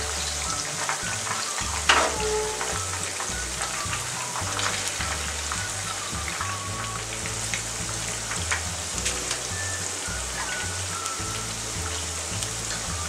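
Chicken pakoda frying in oil over a medium flame gives a steady, dense crackling sizzle close up, with one sharp pop near the start and no talking.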